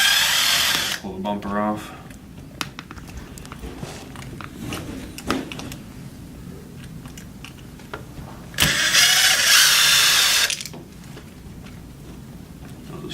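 Two small 2mm screws being driven out of the top of a Traxxas Rustler 4x4 RC truck's front end with a power driver, in two loud whirring bursts between long pauses, with a person speaking briefly.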